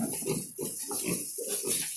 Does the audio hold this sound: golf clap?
no